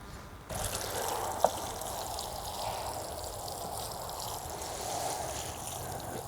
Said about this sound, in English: So before taking it out, I water that in a little bit.